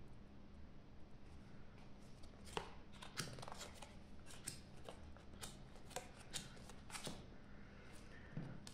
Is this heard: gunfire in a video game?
no